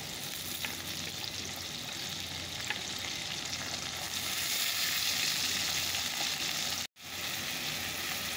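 Peas tipped into a pan of lightly fried potatoes with salt hiss and crackle in a steady, close sizzle, with faint stirring scrapes and a brief dropout near the end.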